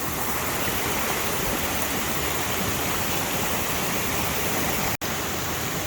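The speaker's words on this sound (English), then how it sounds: "and this creek just flows through it." A mountain creek flows past a tree roughly 35 meters tall, a steady, even rush of running water with no speech, broken only by a split-second dropout near the end.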